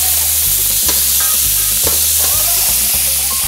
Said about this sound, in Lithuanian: Taigi, karšta keptuvė dedam jautinos faršą.